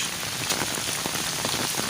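Heavy storm rain in Dadyal, Azad Kashmir pours down in a dense, steady roar of drops hitting surfaces, loud and continuous with no voices.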